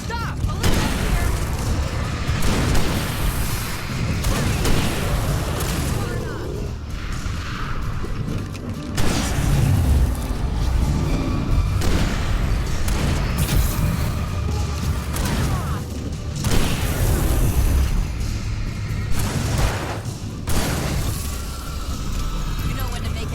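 Gunshots and booming impacts from a firefight in Alan Wake Remastered, loud and repeated in irregular bursts over a dense, busy background, with voices heard speaking in places.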